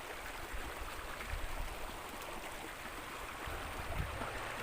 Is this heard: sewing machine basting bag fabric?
no